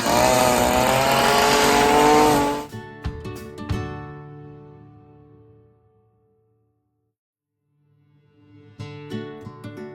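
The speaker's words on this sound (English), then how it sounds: "Time for a little string trimming in these hard to reach areas that the mower just wouldn't go." A gas string trimmer cuts grass along lawn edges in a zoysia yard. Its loud, whining motor runs close for under three seconds and cuts off, followed by quiet, then brief clattering near the end.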